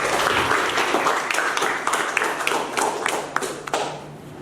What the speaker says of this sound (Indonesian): Tepuk tangan sekali lagi untuk kalian.